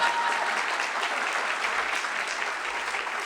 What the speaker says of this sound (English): this round of applause for Jingheng, of course.